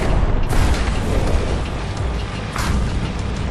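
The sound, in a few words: explosion destroying harvester in video game Tempest Rising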